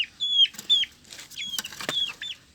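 Young black chickens cluck and peep close by in short repeated calls, a few overlapping bursts in quick succession against a quiet background.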